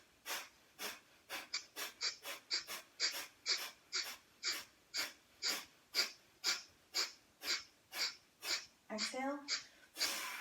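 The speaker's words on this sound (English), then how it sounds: "Back to center, bellows breathing." Bellows breathing in a yoga exercise: a steady series of about twenty sharp, forceful nasal breaths in quick even rhythm, close and clear, with a brief breathy pause near the end.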